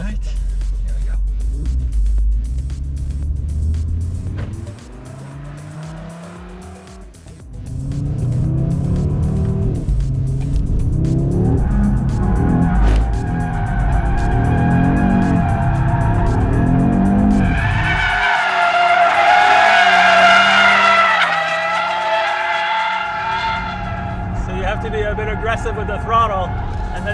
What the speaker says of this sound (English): Audi was keen to let me try this drift mode on a specially arranged drift pad